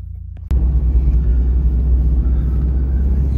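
A UAZ Patriot rolls along the road, a steady low engine rumble and road noise kicking in abruptly and holding loud and even, with no talk over it.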